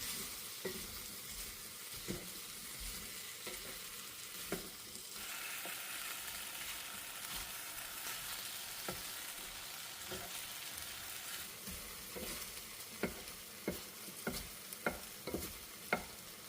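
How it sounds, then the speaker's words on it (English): Potatoes sautéing in a skillet give a steady, fairly quiet sizzle, with occasional utensil clicks against the pan growing more frequent toward the end, no speech. "I'm just going to continue the saute for about 5 to 7 minutes"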